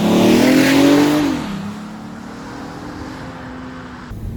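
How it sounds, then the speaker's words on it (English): A 2019 Volkswagen Atlas with its VR6 engine and base exhaust, heard from outside: a loud rising rev that peaks, then drops away into a lower steady drone as the engine settles, with a small bump near the end. "I didn't expect this car to sound this good, but from the outside it does actually sound good."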